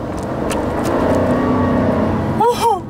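A Toyota Raize GR 2021 with its 1000 cc turbocharged engine in power mode gives a steady, loud engine drone that climbs slightly as it accelerates, heard from close by.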